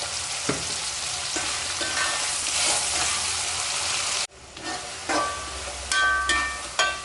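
Onion and tomato sauté in a pan for a Chettinad okra tamarind curry, a close, steady sizzle punctuated by spoon stirs and knocks, briefly dropping before resuming with more clatter.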